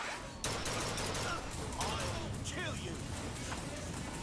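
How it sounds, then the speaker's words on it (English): Enemy gunfire in a Bioshock Infinite battle crackles in overlapping bursts at moderate distance over steady background noise, with shots clustering after a sharp start and continuing unevenly throughout. "all these people ever do is shoot me"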